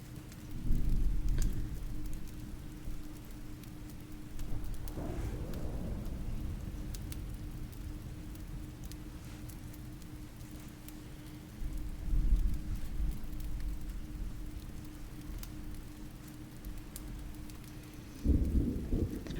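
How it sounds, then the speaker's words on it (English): Steady rain falls outside through an autumn week, with low rumbles of thunder swelling near the start, around the middle and again at the end, no voices present. "It's been raining all week."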